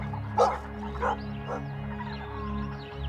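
African wild dog pack calling during a hunt, with three short yelping, barking bursts in quick succession over a steady low background hum, fairly close and moderately loud.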